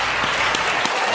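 An audience breaks into applause: dense, continuous clapping at an even, fairly loud level that fills the whole moment, with no voices over it.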